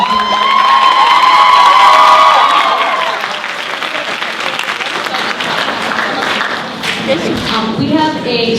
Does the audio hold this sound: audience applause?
yes